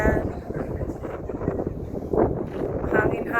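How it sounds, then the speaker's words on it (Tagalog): Wind gusts outdoors at ground level beside a street, buffeting the microphone with a steady low rumble that swells and eases over a few seconds, close and fairly loud. "Hangin-hangin ngayon guys."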